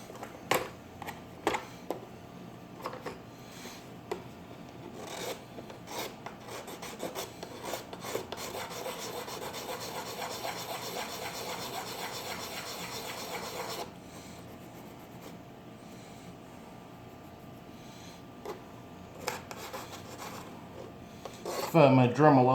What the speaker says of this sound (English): So we're just gonna file that down.